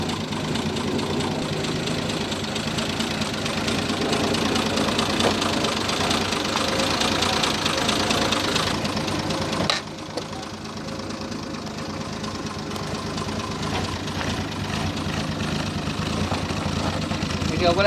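A six-cylinder classic car engine in New Zealand idles steadily with a low, even rumble and faint knocking texture, close and continuous, dipping slightly in level partway through.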